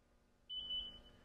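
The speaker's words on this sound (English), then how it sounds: "if you hold the feed button down, you'll hear it beep twice" A Genie tennis ball machine gives a short, thin electronic beep as it resets, faint and alone over low background hum.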